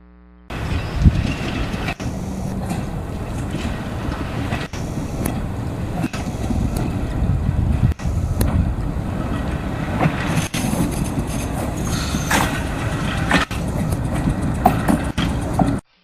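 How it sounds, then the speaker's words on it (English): A steady, loud rumble of Shaker Heights trolley car 12, a century-old Cleveland streetcar running on rails under trolley wire at a railway museum, with continuous rolling noise and periodic clicks over rail joints. "Car 12 is now proceeding to the station where it will load passengers."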